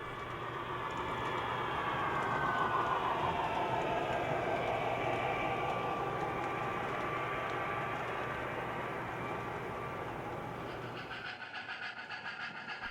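A westbound O gauge model train runs along a mountain railroad layout, a steady close rumble with rail clatter that swells and then fades near the end.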